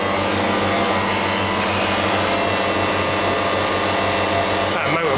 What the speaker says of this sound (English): The noise is the contactor.